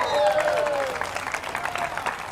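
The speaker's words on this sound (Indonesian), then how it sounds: "Berikan sorak-sorai buat Tuhan" A church congregation at a revival service in Indonesia cheers and claps together, a loud sustained wash of applause and shouting crowd voices that slowly tapers off.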